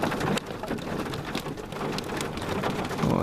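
Hail pelts down outdoors in Yosemite, a dense, steady patter of icy pellets striking surfaces nearby, with a faint rumble of thunder behind and no voices.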